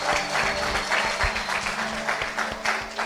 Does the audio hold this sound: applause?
yes